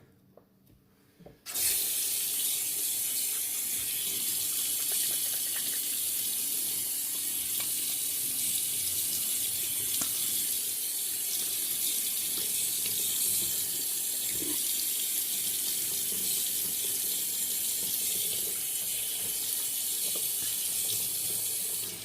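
Tap water runs steadily from a faucet into a sink to re-wet the face during a wet shave with a Gillette razor, starting abruptly after a brief quiet moment and continuing as a loud, even splashing flow.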